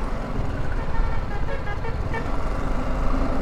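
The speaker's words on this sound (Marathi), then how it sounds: "हॉर्न हे एवढे जोरात वाजवत ना" Car and bus horns toot repeatedly in heavy road traffic in Mangaon on the Mumbai–Goa route, loud and close, heard from a bike amid a steady roar of engines and traffic noise.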